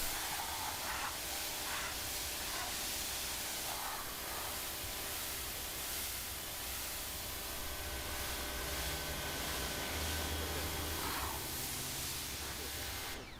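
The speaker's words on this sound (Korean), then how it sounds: "자 그리고 한번 물을 뿌려 보도록 하겠습니다" Water sprayed over a car body freshly coated with water wax, a steady even hiss of spray that runs unbroken from start to finish, alone with no talk.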